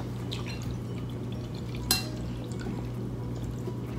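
Water is poured into a drinking glass in a steady, close liquid trickle over a constant low hum, with one sharp clink partway through.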